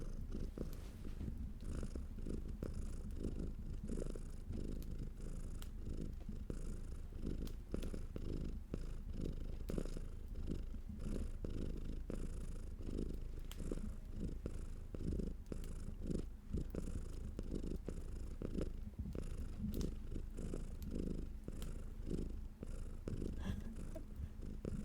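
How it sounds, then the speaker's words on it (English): A cat purrs close up in a steady, continuous low rumble with a regular pulsing rhythm, soft but sustained throughout, no voices present. "Have some cat purrs instead."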